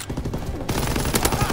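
Dense automatic gunfire in Call of Duty WW2, a rapid string of loud, close shots that starts abruptly partway through and keeps rattling to the end with no pauses.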